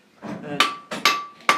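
Three heavy, ringing strikes of a big flat hammer on a hot knife blade at the anvil, evenly spaced and close, each with a bright metallic ring trailing off, and a soft voice beneath.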